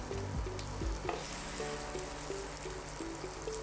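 Prawn patties fry in a pan with a steady, close hiss and crackle of hot oil that runs without a break. Light clinks and scrapes come through now and then, and no one speaks.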